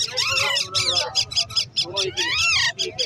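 Several baby parrot chicks at a Karachi exotic bird market give repeated high, harsh squawking calls in quick bursts, close and loud, over a low background murmur of the market.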